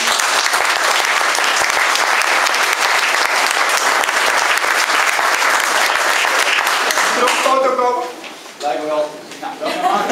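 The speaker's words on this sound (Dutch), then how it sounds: "Ik wil graag een applaus voor de" An audience applauds loudly and steadily at a concept store opening in Veenendaal, dense clapping that fades out near the end as voices and chatter take over.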